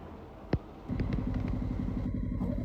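A motorcycle ridden over snow and mud in Deosai National Park in Pakistan. A single sharp knock comes first, then a steady rumbling, pulsing engine note, moderately near and fairly quiet, with faint clatter.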